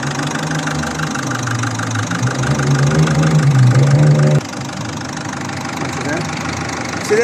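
A rebuilt Citroen 1.4 HDi 8HX diesel engine idles steadily with a rough, clattering knock, loud and close, while someone talks over it.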